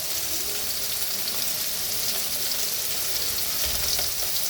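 Onion paste masala with turmeric and salt frying in a pan, a steady dense sizzle running evenly throughout, close and alone with no voices.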